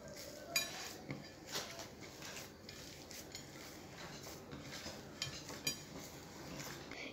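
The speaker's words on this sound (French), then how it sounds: "je vais recommencer à remuer" Cookie dough with coconut and chocolate being stirred in a bowl: a quiet, steady scraping texture with light spoon clinks against the bowl every second or so.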